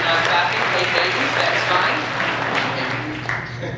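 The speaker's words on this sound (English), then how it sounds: "Everyone started clapping." A comedy club audience claps in a continuous wash of applause that fades slightly toward the end, with no voices on top.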